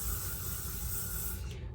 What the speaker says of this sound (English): then we're gonna spray it